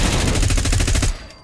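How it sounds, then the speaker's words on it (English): Rapid automatic fire from a Colt 723 (XM4) rifle in Fallout 4, a dense loud burst of about a dozen shots in quick rhythm, cut off with a brief tail. "Let's see if we can shoot the weapon"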